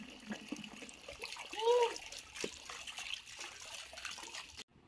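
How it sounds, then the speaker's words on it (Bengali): Water runs from a tap during a young boy's bath at home, a soft continuous trickle and splash heard up close but fairly faint, with a brief voice and a few knocks over it. "ও জল ছেড়ে দাঁড়িয়ে থাকবে আর জল পড়তে থাকবে"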